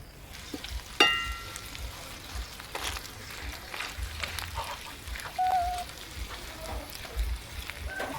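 Eggplant frying in a pan gives a soft, steady sizzle with a sharp clatter near the start, then light stirring and scraping, fairly quiet and close.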